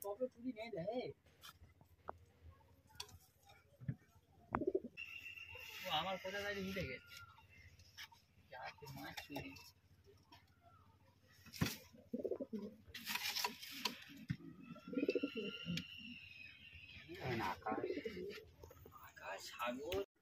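Madrasi pigeons, including a black-tailed bird, coo in soft intermittent bursts close by, with scattered clicks and rustles and a few higher calls between them, while people talk at times.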